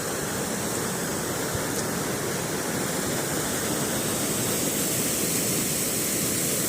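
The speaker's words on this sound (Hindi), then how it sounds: "बहाव बड़ा तेज है, बहुत ही तेज है" Fast-flowing water from a mountain stream or waterfall in Himachal Pradesh, a loud, dense, unbroken roar filling the scene throughout.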